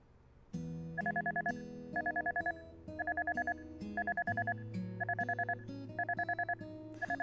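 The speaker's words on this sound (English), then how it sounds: "My phone alarm rang." A phone alarm sound effect from the visual novel Kindred Spirits on the Roof: bursts of bright electronic two-tone beeps repeat in a steady rhythm over sustained background music.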